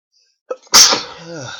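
A single loud sneeze with a short sharp intake of breath before it, followed by a trailing vocal exhale, close to the microphone.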